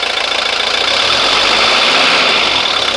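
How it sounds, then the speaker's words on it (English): A 1983 Mercedes 240D diesel engine idles steadily and smoothly at close range, a continuous low rumble with no voices. "As the engine warms up, it gets really smooth."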